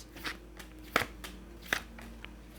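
Tarot cards are shuffled close up in short, crisp riffling and slapping bursts, a few distinct flicks over a quiet background.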